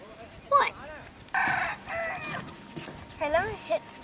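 Chickens on a mountain top cluck and crow in several close, loud calls, with a long crowing note in the middle, while people talk nearby.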